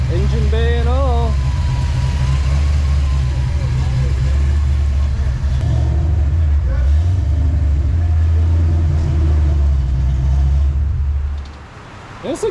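A V8 engine in a 1988 Ford Mustang GT Fox body rumbles loudly at idle with a lopey, choppy beat, revving up briefly before dropping back and cutting out near the end.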